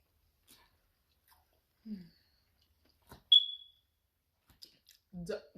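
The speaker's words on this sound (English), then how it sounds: "please ignore the beeping. I gotta change the battery in my smoke detector" A single short, high electronic low-battery chirp from a smoke alarm sounds once amid quiet room noise, with brief bits of chewing or movement around it.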